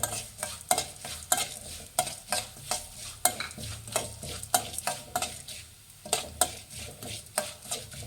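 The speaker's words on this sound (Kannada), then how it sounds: "ಲೋ ಫ್ಲೇಮಲ್ಲಿ ಇಟ್ಟು ಫ್ರೈ ಮಾಡಿ ಫ್ರೆಂಡ್ಸ್" Cumin seeds frying and being stirred in a pan over a low flame, a steady soft sizzle broken by repeated scraping stir strokes in an uneven rhythm, close and clear with no voices.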